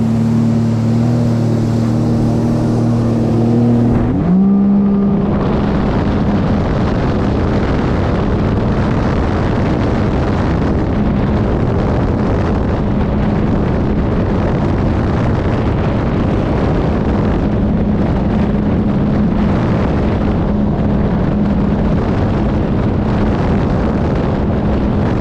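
Sea-Doo RXP-X 325 personal watercraft at top speed with its speed limiter removed: a continuous loud roar of engine and rushing water, heavily buffeted by wind on the microphone, after the engine pitch shifts early on.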